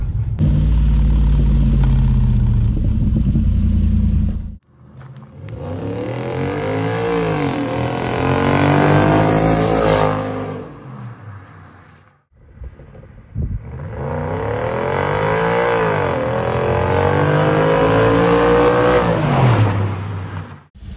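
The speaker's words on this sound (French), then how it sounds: "les retours de flamme" An Audi S4 B7 estate's engine revving hard in two long, loud pulls after an idle, the exhaust crackling and popping with backfires as the revs fall.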